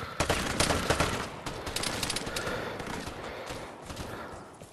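Rapid gunfire from the video game Vigor on PS5, a dense burst of crackling shots followed by scattered rattling reports that gradually fade, no clear talking over it.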